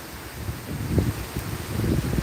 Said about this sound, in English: now we're starting to see some real gusts.